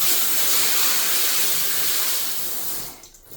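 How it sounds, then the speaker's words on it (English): A shower head runs at very high water pressure, a loud, steady, close hiss of spraying water that cuts off abruptly near the end. "The pressure on the shower head's crazy."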